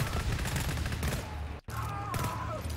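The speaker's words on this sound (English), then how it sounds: "Dude, the turret is killing me!" Rapid automatic turret fire in the shooter GTFO pounds continuously, dense and loud, broken only by a brief gap before resuming.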